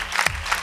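An audience at a televised talent show stands and applauds in a brief, steady burst of clapping with no talk over it.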